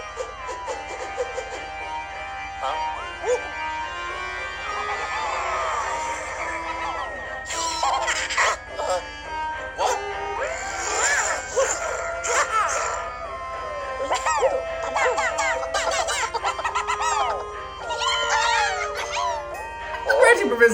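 The ghost dog Polter Pup from the video game Luigi's Mansion: Dark Moon howls, whimpers and yelps in a cartoonish way over game music and effects, with someone talking over much of it.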